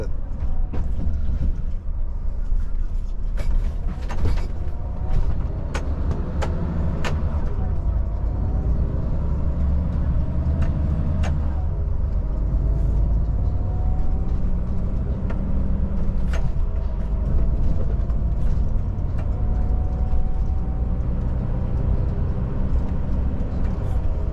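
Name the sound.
Volvo FH truck gearbox while driving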